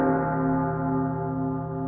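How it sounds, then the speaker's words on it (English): Church bells ring in a steady, sustained tone with rich layered overtones, fairly loud and with no voices over them. "The bells! They're ringing!"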